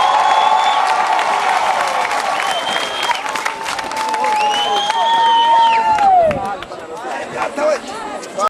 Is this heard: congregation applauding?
yes